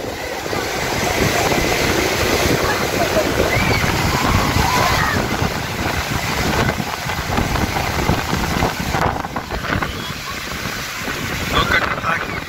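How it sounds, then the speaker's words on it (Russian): Aegean Sea surf breaking steadily on a public beach, a continuous broadband wash close by with heavy wind buffeting the microphone throughout and no clear talk. "Перед нами Эгейское море."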